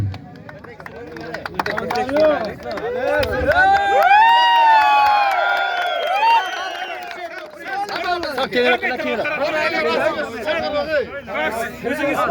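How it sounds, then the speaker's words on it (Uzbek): At a kupkari prize ceremony during the Boysun bahori festival in Surxondaryo, a crowd cheers and chatters in a loud, sustained swell, with people talking and voices calling out over the noise. "Olqishlab qo'yinglar."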